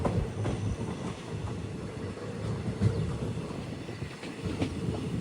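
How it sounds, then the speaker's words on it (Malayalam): A passenger train pulling into Kadur station on the Arsikere–Bengaluru line, with steady rumbling and clickety-clack of wheels over rails, a few sharper clanks, heard from close by for several seconds. "ട്രെയിൻ ഇപ്പോൾ കടൂരിലേക്ക് എത്തുകയാണ്"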